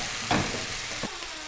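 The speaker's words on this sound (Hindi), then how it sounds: "चिकन को हमने स्पाइसेस के साथ भून लेना है।" Chicken frying with red chilli powder and spices in a pan, a continuous close sizzle with two brief scraping stirs of a utensil, no voices.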